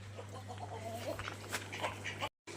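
A backyard hen gives a few short, soft clucks close by against a low steady hum.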